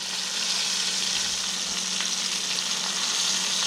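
Flounder fries in a pan, giving a loud, steady, close crackling sizzle that runs without a break and with no voices.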